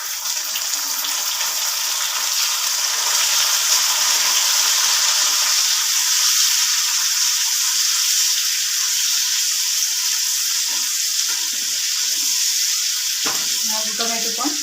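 Chopped tomatoes go into a hot pan with capsicum for masala pasta, giving a loud, steady sizzle and frying hiss throughout, with a brief clatter of stirring near the end.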